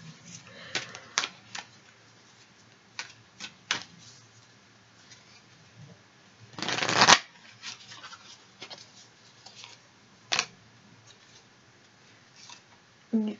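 Tarot cards handled and shuffled on a table, sounding as quiet scattered flicks and taps with one longer riffling burst in the middle.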